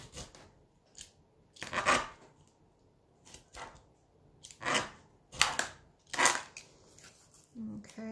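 Scissors snip through the paper covering of a hardback book in several crisp, separate bursts of cutting and crunching. The cuts come at irregular intervals close to the listener, with a brief murmur of voice near the end.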